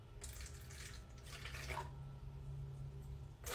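Lukewarm milk poured into a bowl in a home kitchen, a steady soft liquid stream running for several seconds, faint and close, with low background hum.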